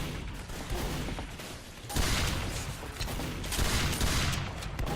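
Shotgun gunfire in the Team Fortress 2 video game on the KOTH Sawmill map, with repeated overlapping blasts and game action continuing steadily for several seconds, louder bursts near the middle and end.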